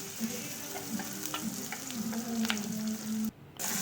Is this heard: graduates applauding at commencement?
no